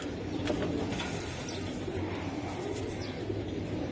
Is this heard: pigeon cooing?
yes